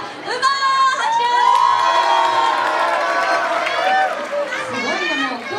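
Loud, continuous crowd cheering with high-pitched whoops and children's shouts as the All Stars winner is announced at the Dance Alive Hero's 2017 dance competition, sustained throughout with little let-up.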